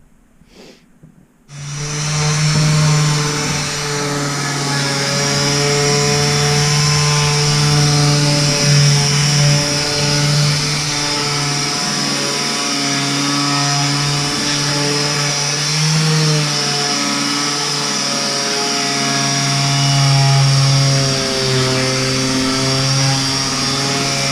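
A steady motorized whir of a Drill Master electric sander on reclaimed pallet wood runs continuously and loud after a brief quiet start, with slight shifts in pitch as it works.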